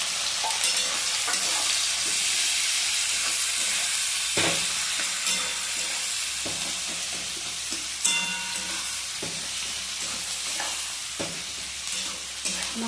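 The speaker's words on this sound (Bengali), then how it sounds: "আমি তাহলে এখানে পেঁয়াজটা ভাজা হোক" About 300 grams of onions sizzle and hiss steadily in a hot pan for a Bengali mutton and potato curry, with occasional stirring scrapes and no talking.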